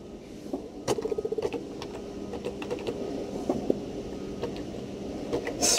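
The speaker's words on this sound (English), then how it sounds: "speed of my typing with one hand while holding the machine" Someone types on a laptop keyboard with one hand, giving sparse, uneven clicks and a quick run of taps near the start, close and alone in a quiet room.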